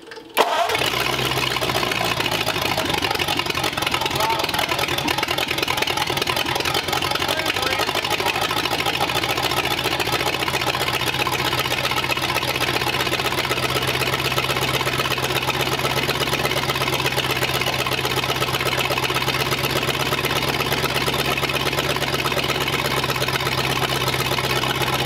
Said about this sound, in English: Just let it idle.